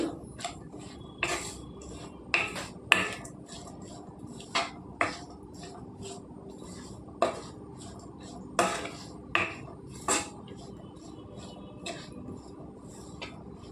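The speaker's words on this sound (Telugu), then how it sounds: "ముక్కలంతా పట్టేలాగా కలుపుకోవాలండి పసుపు ఉప్పు" Chopped cabbage is tossed with turmeric and salt in a cooking pan, with irregular sharp clinks and scrapes of a utensil against the metal, about a dozen distinct knocks over quiet background and no voices.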